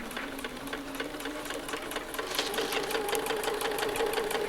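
A sewing machine with a 1/4 inch foot stitches a pillowcase seam, giving a steady rapid mechanical whir that runs continuously and grows slightly louder partway through, with no talking.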